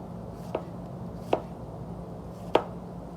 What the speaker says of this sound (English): we'll take 1 more lemon and we're gonna just slice this into thin little wedges here, or thin little slices